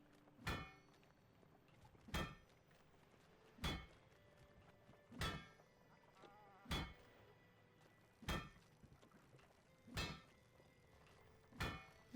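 Hammer strikes on metal in the video game Spiritfarer, eight evenly spaced clanking blows about one and a half seconds apart over a quiet background of soft game music.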